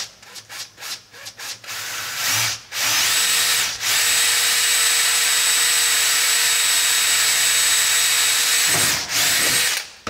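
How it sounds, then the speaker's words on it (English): A power drill bores 3 mm pilot holes through aluminium for a hand-cut boat build, opening with short stuttering bursts, then settling into long, loud, steady whining runs with brief pauses between holes. "we're just going to run a pilot, 3 mil pilot through each hole"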